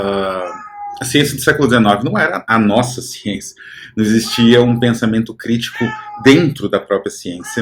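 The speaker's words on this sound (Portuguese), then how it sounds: "Isso é meu gato. Ele às vezes protesta aqui." Domestic house cat meowing insistently in protest, repeated loud drawn-out meows and yowls close to the microphone, overlapping with someone talking.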